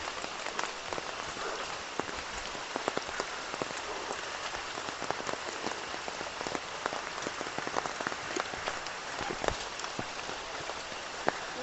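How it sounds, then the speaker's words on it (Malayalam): Steady rain falls on a hike toward waterfalls and caves, a dense continuous patter with sharper individual drops hitting nearby surfaces throughout, no voices. "മഴ ഒരു വലിയ പ്രശ്നം തന്നെയാണ്."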